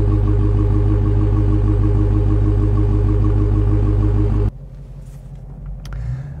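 A Dodge Charger SRT Hellcat Redeye's supercharged engine drones loud and steady with a deep rumble, then abruptly drops to a quieter low hum as the car rolls on.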